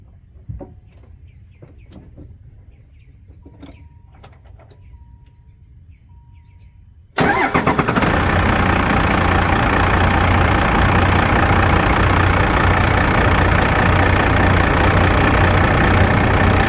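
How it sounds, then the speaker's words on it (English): A 1995 Dodge Ram 2500 with the 12-valve 5.9 Cummins diesel cranks and fires on a cold start, then settles into a loud, steady, rumbling idle close by after a quiet stretch with faint birdsong. "Here's a cold start."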